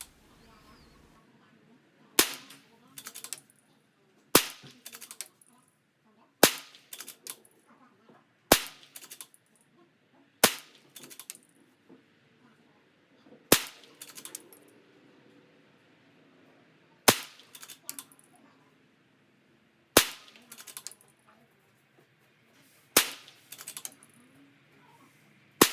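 A Ruger Precision Rimfire rifle fires Aguila subsonic 40-grain lead round-nose .22 rounds at 50 yards, each shot a sharp, fairly quiet crack, about ten spaced several seconds apart with faint handling noise between.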